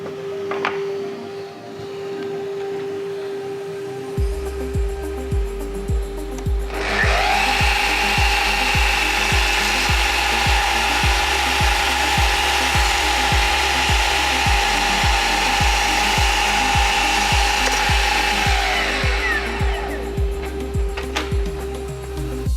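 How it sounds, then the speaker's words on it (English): A miter saw cuts the end off a piece of reclaimed wood, spinning up with a loud whine, then a sustained high, even cutting tone for about twelve seconds before winding down, over a constant low electrical hum. "I've just got to take this end off with the miter saw"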